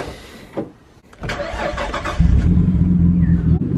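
A Nissan R33 Skyline GTS25T is started: a short cranking burst, then the turbo engine catches and settles into a steady, loud, close idle rumble.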